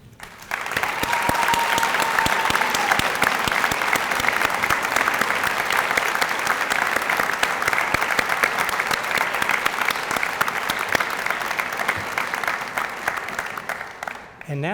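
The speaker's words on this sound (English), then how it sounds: "giving you one more round of applause for the very inspiring class that you are" Sustained, loud applause from a large audience honoring the graduating class at a commencement ceremony, dense and even for about fourteen seconds before cutting off.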